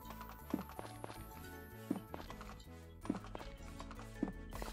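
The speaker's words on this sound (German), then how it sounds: "Aber das Pferd kann eh einfach rennen," Game horse from Story of Seasons runs, its hooves knocking in a steady rhythmic clip-clop at a regular pace, blended with looping background music.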